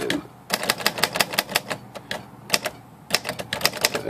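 A vintage Royal Quiet De Luxe manual typewriter, freshly cleaned, types in quick bursts of crisp, close keystrokes separated by short pauses, with no voices.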